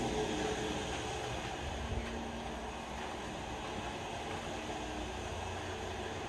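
Otis traction elevator running in its shaft at an oceanfront resort in Myrtle Beach, a steady low mechanical rumble and hum that holds evenly throughout, faint and distant, with no talking.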